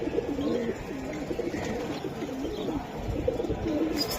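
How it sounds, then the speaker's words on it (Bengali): Large Giribaz pigeons coo repeatedly in soft, rolling low calls over faint background noise, close by and continuous. "বড় সাইজের কবুতর"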